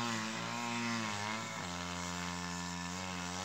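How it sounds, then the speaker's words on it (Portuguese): Lawn mower engine droning steadily while cutting grass in the front yard of a countryside property, a continuous buzzing hum that shifts pitch slightly midway, close and constant with no talk. "Ele tá cortando a grama lá da parte da frente."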